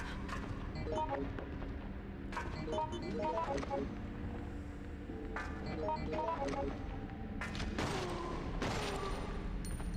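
Gunfire in Resident Evil Outbreak, with Alyssa Ashcroft firing a few scattered shots to hold off enemies during a wait, sharp bursts over a dense, busy background of game noise and music.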